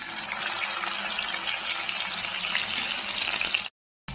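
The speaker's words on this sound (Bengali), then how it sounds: "माछगुली भेजे निচ্ছি।" Pieces of katla fish fry in hot oil, a dense, steady hissing sizzle held close and even for several seconds before cutting off abruptly.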